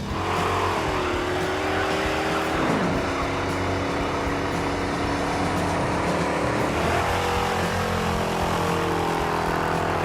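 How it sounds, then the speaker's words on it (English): A 440 Dart muscle car roars loudly as it burns rubber with its tires spinning, the engine droning continuously with pitch swings as it revs up and down for about ten seconds, with no voices. "Let's burn rubber again."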